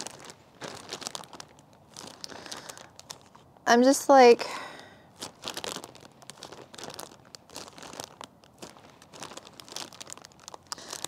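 A plastic bag around a newly unboxed Anthurium pallidiflorum plant crinkles loudly in a brief burst of handling, set between stretches of close-up talking.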